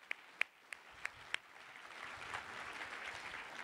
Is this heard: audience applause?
yes